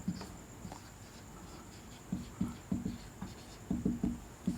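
A pen scratches out a maths solution in short strokes. The quiet, close scribbling comes in small bursts, with clusters of quick taps toward the end.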